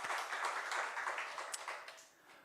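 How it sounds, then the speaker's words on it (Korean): A congregation claps during a Korean Sunday church service, giving a steady, faint wash of applause that carries on for the whole moment and tapers slightly near the end. "우리 하나님께 영광의 박수 올려드리겠습니다."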